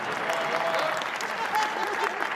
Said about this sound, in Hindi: अपनी औकात में ताली बजा रहे हैं।